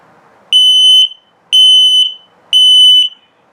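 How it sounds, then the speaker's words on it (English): Carbon monoxide and LP gas detector inside a 2021 CrossRoads Sunset Trail 222RB travel trailer sounding its self-test: three loud, piercing electronic beeps about half a second long, evenly spaced one second apart, with silence between. "So here comes another self-test, and then it'll beep very slowly."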